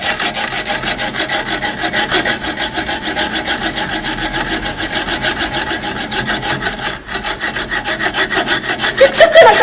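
Close, steady rapid rasping of a blade cutting a metal ring off a finger, a continuous gritty sawing texture for the whole stretch with no break in rhythm and no talk.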